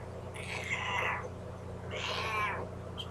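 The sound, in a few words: cat meowing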